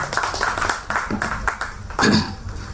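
Audience applause for a speaker at a Tamil debate (pattimandram) safety-awareness event at Chennai Port, clapping spread through the hall with voices and speech mixed in over it.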